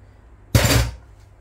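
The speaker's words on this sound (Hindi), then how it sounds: "अब मैं यहाँ डाल रही हूँ हाफ कप पानी।" Half a cup of water goes into a pan of chicken curry, a single short splashing burst of about half a second that is loud and close, then fades into a quiet background with no talk.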